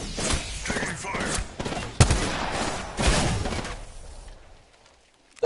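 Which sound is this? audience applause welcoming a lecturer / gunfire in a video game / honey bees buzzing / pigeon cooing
gunfire in a video game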